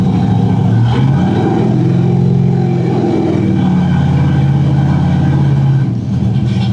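A Chevrolet big-block V8 with open headers roars steadily at high revs on a dyno, loud and close, with deep rumbling tones that rise and fall slightly throughout.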